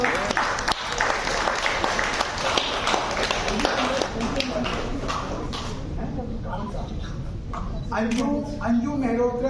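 Lively audience applause at a formal event, dense clapping for several seconds that thins out toward the end, with a voice speaking over the final stretch.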